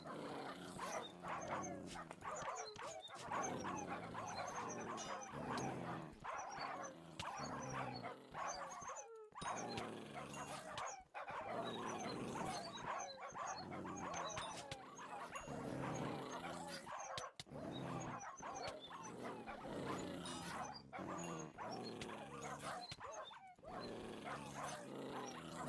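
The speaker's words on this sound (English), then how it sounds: "These dogs are loud." Dogs in the Hypixel Skyblock video game bark, yip and whimper repeatedly in dense overlapping bursts, loud and continuous, layered with other game effects.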